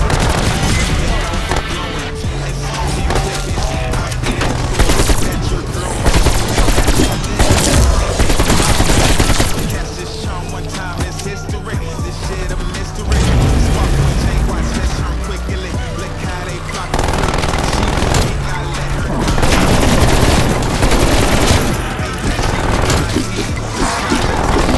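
Sentry turret gunfire in Call of Duty: Black Ops Cold War Zombies, a dense, loud stream of rapid automatic shots that continues almost without pause, layered with other game effects.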